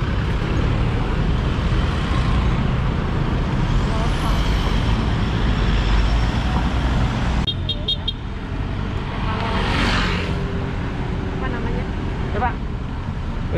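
Dense traffic on a busy Manila road roars continuously nearby: engines, trucks and passing cars with occasional horn toots, while people talk over the steady din.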